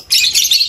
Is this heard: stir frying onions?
no